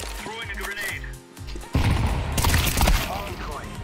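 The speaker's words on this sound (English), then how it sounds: "Throwing a grenade" A grenade blast in a multiplayer first-person shooter bursts loud and close after a moment of quieter game noise, followed by crackling debris and scattered gunfire.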